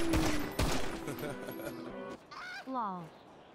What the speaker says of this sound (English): Somebody just shot them, Jack.